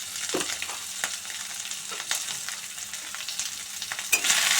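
Potatoes fry in hot oil in a pan with a steady close sizzle, while a spoon stirs and scrapes against the metal now and then, with no talking.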